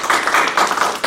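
Seminar audience applauding researchers at an ICT-based crime prevention seminar: a brief, steady patter of many hands clapping together at moderate volume, with no voices.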